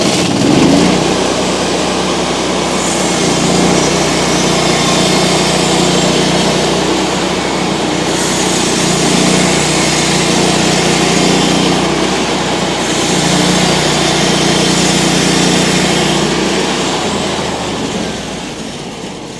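A sawmill runs a steady, loud, continuous engine drone with a high whine as it slices a log into cookie rounds on another pass, a few brief dips in pitch along the way and no talking.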